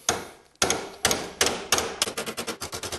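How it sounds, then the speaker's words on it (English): Hammer strikes shaping a 20 gauge sheet metal fender on a hammerform, a dozen or so sharp metallic blows, first spaced about half a second apart, then quickening into a rapid steady rhythm, loud and close. "And I'm moving the hammer because I don't want to just dent the crap out of one spot."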